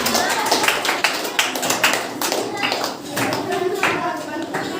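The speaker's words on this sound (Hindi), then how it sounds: "जोरदार ताली बजाओ करिश्मा के लिए" Children at a school assembly clap loudly and steadily for a classmate, a dense patter of many small hands with scattered louder claps, close and sustained throughout.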